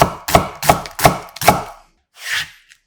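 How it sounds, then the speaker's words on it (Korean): Knife slicing a quarter onion into thick strips on a cutting board, four crisp evenly spaced chops, then a pause and one softer cut, close and alone. "은은한 단맛 양파 4분의 1개는 살짝 굵게 채 썰어주고"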